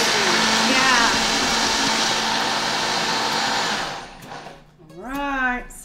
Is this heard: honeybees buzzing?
no